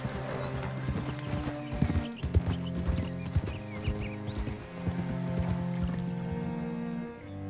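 Rhythmic clip-clop of several horses' hooves in Red Dead Redemption 2 over a steady game music backdrop, with an occasional snort; no talking.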